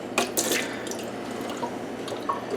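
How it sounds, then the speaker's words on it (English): Cold water runs from a tap over freshly cooked beets being peeled by hand, a steady splashing stream with a few sharper drips and spatters standing out near the start and end. "Just run cold water."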